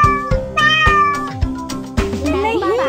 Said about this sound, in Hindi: नहीं बाटलीटो, ये बिल्ली की आवाज है।